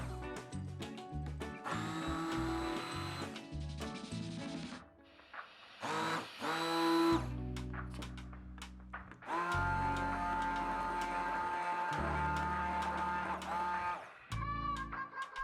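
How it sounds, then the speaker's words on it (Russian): An immersion blender whirs through a cheesecake cream mixture of cottage cheese, powdered sugar and cream, running in loud bursts that stop and restart, with pitch shifts as the load changes, alone without speech. "А вот теперь погружным блендером все это перебиваем в единую массу."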